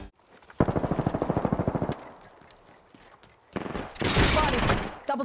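Pistols fire in the video game Apex Legends: a fast burst of rapid, evenly spaced shots up close, a pause with softer noise, then another loud, dense volley of gunfire.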